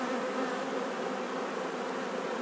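Dense, steady hum of many honeybees in an open, crowded beehive preparing to swarm, a loud continuous drone filling the whole stretch with no talking.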